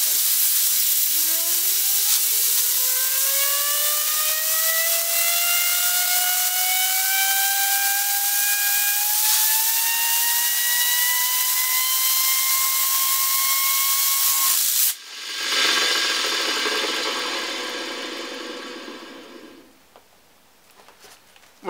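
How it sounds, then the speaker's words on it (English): A spinning bearing driven by blown air and sprayed with WD-40 gives a loud rising whine that climbs steadily in pitch over air hiss, then breaks into a harsh spray hiss that fades out. "I wonder if we spray some WD40 on that, whether it will speed up."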